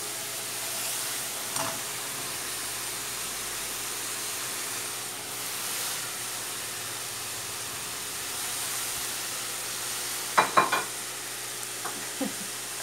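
Ground beef frying in a pan with onion, garlic and ginger gives a steady, soft sizzle throughout, with a few brief clatters of utensils near the end.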